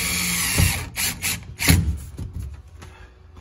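Power drill drives self-tapping screws into soft aluminum inside a day-cab truck interior, several short close whirring bursts with grinding and rattling bites between brief pauses.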